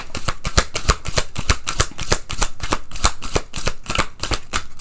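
Oracle cards shuffled by hand, a quick run of crisp riffling flutters repeating in an even rhythm, close and clear with no talking.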